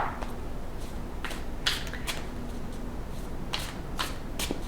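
Oracle cards are shuffled in repeated quick riffling bursts, each crisp papery flutter close and distinct, separated by brief pauses over a steady low background hum.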